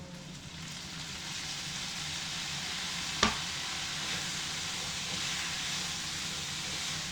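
Pork belly sizzling and hissing steadily in a pan as dark soy sauce goes in, a continuous close frying hiss with one sharp clink or tap partway through.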